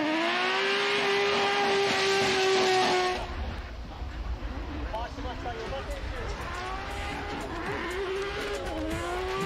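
Formula Drift Japan car sliding sideways through a turn at Okayama International Circuit in qualifying: a loud, sustained engine wail that cuts off, then further engine revving with tire noise, and an announcer talks over the sound.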